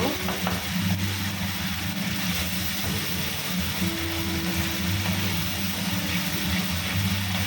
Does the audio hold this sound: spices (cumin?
yes